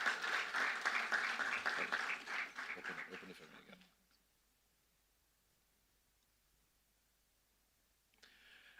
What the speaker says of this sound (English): Shall we do a big round of applause?